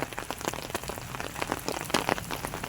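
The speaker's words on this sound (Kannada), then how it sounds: "ಈ ಥರ ಯಪ್ಪ ಭಯಂಕರ ಆನಕ್ಕಲ್ಲಲ್ಲೇ ಇದು ಮಳೆ ಇಲ್ಲ" Heavy hailstorm with rain in Ramanagara: a dense, steady patter with many sharp, irregular impacts cracking through, close and loud, with no voices.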